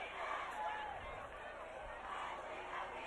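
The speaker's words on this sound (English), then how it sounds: "Big crowd. Nobody's left" Large crowd at a high school football game, a steady roar of massed voices and cheering that holds at a constant level from start to finish.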